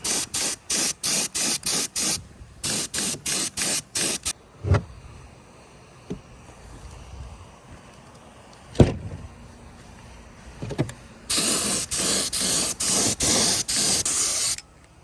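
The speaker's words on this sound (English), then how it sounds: "Tried to use my gravity fed gun, but switched to the siphon fed and just, you know," Siphon-fed spray gun hissing out Eastwood rust encapsulator in a rapid series of short bursts, then a long pause with a few knocks, followed by a longer steady spray pass.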